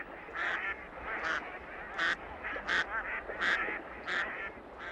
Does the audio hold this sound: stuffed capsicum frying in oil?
no